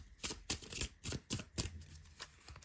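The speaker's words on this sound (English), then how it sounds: "So let's shuffle it." A deck of oracle cards is shuffled by hand in a quiet room, giving soft, quick riffling slaps and brushing at close range.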